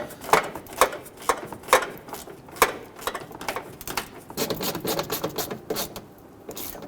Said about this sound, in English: go ahead and grab your ratchet and your socket and snug those down